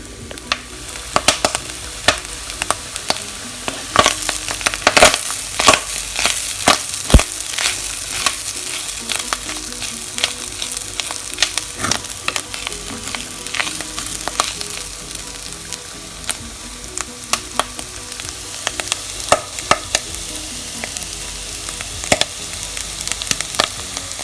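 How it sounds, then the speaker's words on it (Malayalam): Clams roast in a pan over a medium flame, sizzling steadily close up while a utensil stirs them with frequent scraping clicks. "ഇളക്കി ഇളക്കി നന്നായി കൊടുത്താൽ മതി നമുക്കത് കുറച്ച് നേരം കൂടി അടച്ച് വെച്ച് വേവിക്കാം മീഡിയം ഫ്ലെയിമിലാണ് ഇത് വേവിക്കേണ്ടത്"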